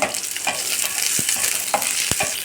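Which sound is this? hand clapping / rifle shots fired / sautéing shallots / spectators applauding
sautéing shallots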